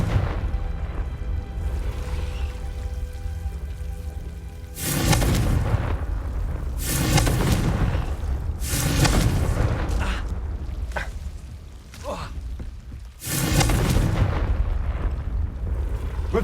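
Confringo spell explosions in Hogwarts Legacy, a series of loud booming blasts at irregular intervals with rumbling tails, close and heavy, alone without speech.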